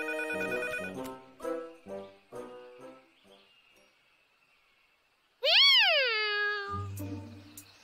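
A cartoon cat gives a loud, sliding meow, preceded by a series of short, tonal animated sound effects and followed by a low thump.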